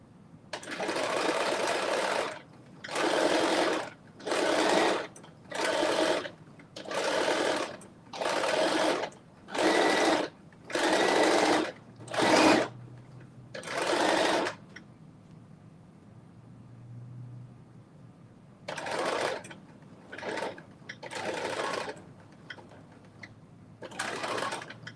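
A sewing machine runs a top-stitching seam for a McCall's M8208 garment in about a dozen even, close, loud bursts, then pauses briefly before several shorter runs resume, with no talking.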